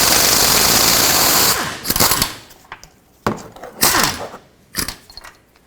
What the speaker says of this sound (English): So I'll hold the nut and loosen up the bolt.